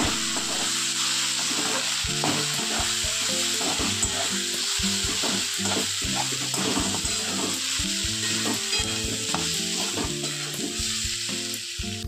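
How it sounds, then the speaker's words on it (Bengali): Ground chilli, turmeric, cumin and coriander frying in oil for dal, a loud, continuous crackling sizzle with busy stirring and scraping throughout, close up and with no voices. "এবার গুঁড়ো মশলাগুলো দিয়ে লঙ্কা, হলুদ, জিরে, ধনে দিয়ে কষিয়ে নেব"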